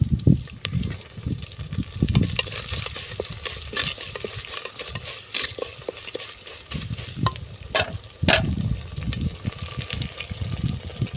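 Onions and spices fry in a pan before tomatoes go in, with bursts of spatula stirring and scraping over a wet sizzle, rising and falling in uneven pulses.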